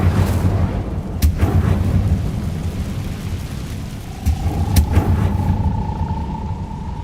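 An Incendio fire spell cast in the video game Hogwarts Legacy gives a steady, loud roaring rumble, broken by a couple of sharp bursts, with a thin sustained tone rising near the end.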